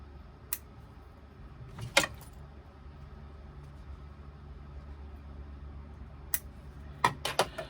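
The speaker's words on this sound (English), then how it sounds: "I'm now just going to trim the threads" Scissors trimming threads on a sewn bag pocket, a few sharp metallic snips, one early, one near the two-second mark and a cluster near the end, faint and close over a quiet low hum.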